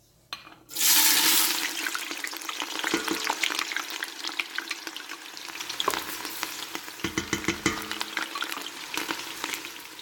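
Onions hit hot, smoking oil for a marinara with a sudden loud hiss that settles into steady crackling sizzle, with occasional stirring clatter, close and sustained.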